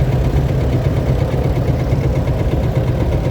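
A 1949 KCC vintage tractor engine chugs steadily as it passes in a steam rally parade, a close, loud, low rumbling idle with an even throbbing pulse and no voices.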